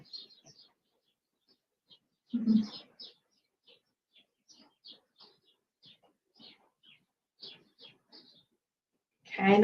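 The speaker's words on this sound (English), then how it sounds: "Lovely bird song here." Birds chirp and coo outdoors in spring, short faint calls scattered through a quiet scene, with a louder burst midway and a spoken voice at the end.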